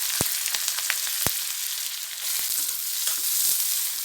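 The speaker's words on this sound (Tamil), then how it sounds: "வெங்காயம் ஓரளவு ப்ரௌன் கலராக வரட்டும் பொன்னிறமாக ரொம்ப சுருளாக வதக்க வேணாம்" Onions and green chillies frying in oil for sambar give a loud, close, crackling sizzle with sharp pops and the scrape of stirring throughout, with no voices.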